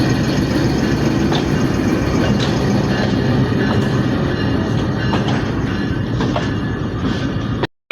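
A train rumbles steadily into Haveli Lakha railway station in dense fog, with a loud continuous roll of wheels and faint rhythmic clicks throughout, then cuts off abruptly at the end.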